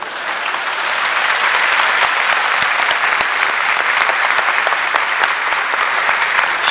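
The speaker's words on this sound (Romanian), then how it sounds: "Dar nu vă grăbiți să aplaudați." Steady, dense audience applause fills a hall during a 1986 speech by Nicolae Ceaușescu, many hands clapping together at an even loudness throughout without a break.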